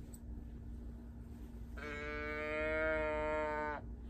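A Steiff mohair plush teddy bear's built-in growler gives one drawn-out, bleating groan lasting about two seconds, clear and close over a faint steady hum.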